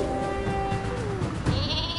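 Super Sheep from the video game Worms gives a wavering cartoon bleat, loud and up close over game background noise, with the pitch bending as the call goes on.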